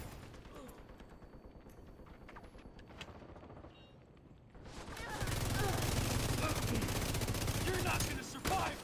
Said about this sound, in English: I'll just keep shooting over him.